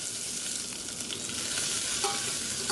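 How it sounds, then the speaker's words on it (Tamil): Mustard seeds, urad dal, curry leaves and onions fry in hot oil in a home kitchen, giving a loud, continuous close sizzle while a spoon stirs the pan, with no talking. "எண்ணெயில் கடுகு, உளுந்தம் பருப்பு, கருவேப்பிலை சேர்த்துக்கிறேன்."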